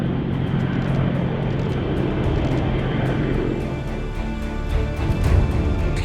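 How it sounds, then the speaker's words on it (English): A CH-53K heavy military helicopter takes off, giving a loud, steady, broadband engine and rotor roar that holds throughout and swells briefly near the end. "the helicopter takes off toward the designated mission"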